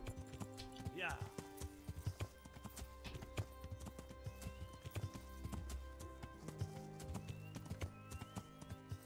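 Video game horse hooves clop steadily on hard ground climbing a hill, with a brief neigh near the start and a busy layer of background sound throughout.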